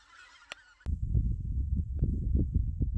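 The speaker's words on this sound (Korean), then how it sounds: "조금 전 시끄러운 새소리는 기러기입니다." Wild geese honk in a noisy, overlapping flock outdoors among trees. The calls are loud and continuous, with repeated low, throbbing pulses after a brief quieter opening.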